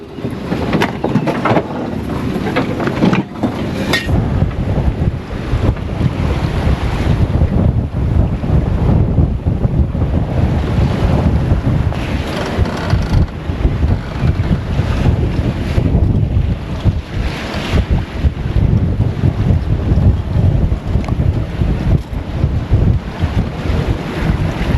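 Strong wind and breaking waves at sea aboard a sailboat off Australia's rugged coast, a loud continuous roar with heavy wind buffeting on the microphone throughout, no voices.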